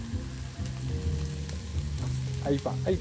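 Chopped carrot and celery drop into hot oil with sautéed onion, setting off a close, lively sizzle and crackle while someone speaks briefly over it.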